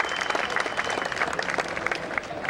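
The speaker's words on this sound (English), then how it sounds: "Let's give her a nice round of applause" Applause from a crowd at an outdoor Cesar Chavez rally and march in Tucson, a steady dense patter of many hands clapping at moderate volume, with a few voices faintly mixed in.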